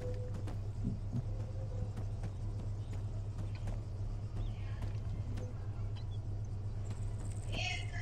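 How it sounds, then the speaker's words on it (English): A car in the video game Arma 3 rumbles nearby as a steady low engine drone running throughout, with faint clicks and game sounds scattered over it. "I hear a car."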